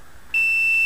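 An Arduino buzzer starts beeping as an object comes near its distance sensor, a sudden steady high-pitched electronic tone that switches on and holds, loud and clear against a faint background hum.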